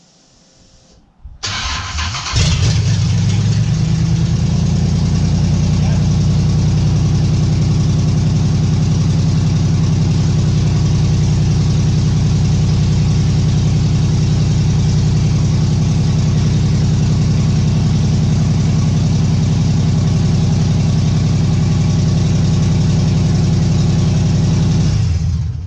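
A race car with no exhaust fitted fires up on the first try after a short cranking moment, then settles into a loud, steady, raw idle that drones on close by without letting up.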